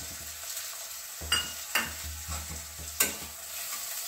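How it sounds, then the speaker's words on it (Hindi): Boiled green peas stirred and lightly fried in a pan while potato and semolina kachori filling is prepared, giving a steady sizzle with several sharp spoon scrapes and clinks against the pan. "और इसको भी हल्का फ्राई कर लेंगे।"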